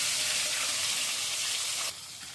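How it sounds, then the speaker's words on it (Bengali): A gulla fish hits hot oil and sets off a loud, close, continuous sizzle, crackling steadily before easing to a slightly quieter fry near the end. "এই যে গুল্লা মাছটা তেলে দিলাম"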